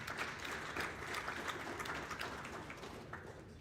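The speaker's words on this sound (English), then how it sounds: "I want you to give yourselves a round of applause" Faint, steady applause from an audience at a town hall meeting held in an elementary school, a soft continuous patter of many hands with no voices on top.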